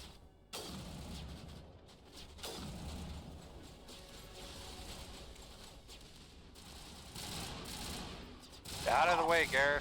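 Rapid gunfire in a Mass Effect firefight, with continuous shots and bursts mixed with game effects, a voice talking over the action and a rising electronic sweep near the end.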